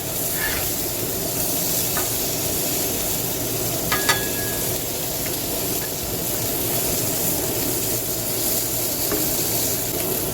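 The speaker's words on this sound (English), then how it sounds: "I'll finish up the bacon." Bacon frying on a Blackstone griddle gives off a loud, steady sizzle and crackle, broken by a few faint clicks and scrapes.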